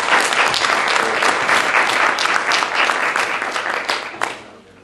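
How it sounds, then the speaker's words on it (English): An audience applauding a newly minted dean at an evening memorial symposium, loud dense clapping from a full room, steady for several seconds and then tapering off. "let's give our newly minted Dean a round of applause"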